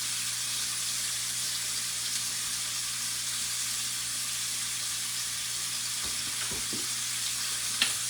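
Steak seasoned with garlic and onion frying in a pan, a steady hissing sizzle held at an even level throughout with a few faint knocks near the end and no voices.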